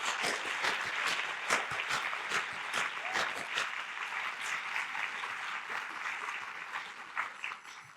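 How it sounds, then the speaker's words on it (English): Applause fills a scholarship banquet hall, a steady wash of many hands clapping at once that holds strong throughout, with a few sharper claps standing out near the end. "lead us in a final round of applause for all of our speakers tonight and also our recipients"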